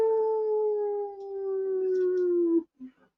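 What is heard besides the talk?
dog howling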